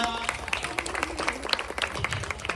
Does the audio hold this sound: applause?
yes